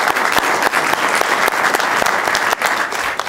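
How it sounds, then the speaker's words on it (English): An audience at a mayoral debate claps steadily for the whole stretch, a dense, loud wash of many hands with no break. "So let's give another round of applause."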